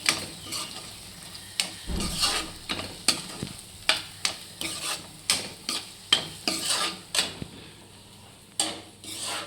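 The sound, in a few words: mushrooms frying in a pan for curry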